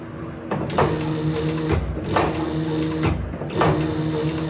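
A leathercraft sewing machine with an electronic needle positioning system runs in short bursts, each a mechanical whir with a clunk at start and stop, repeating about three times close by without talking.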